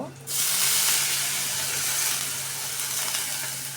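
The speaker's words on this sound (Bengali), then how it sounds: "একটু করে পানি দিয়ে দিব" Spices frying in a pan (chili powder, turmeric, salt) burst into a loud, steady hiss and sizzle as a little water is added, starting abruptly and staying strong for several seconds.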